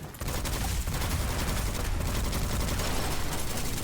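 Sustained rapid fire from the Midas rifle in the video game Witchfire, a dense loud volley of shots running unbroken through the whole stretch as a magazine is emptied.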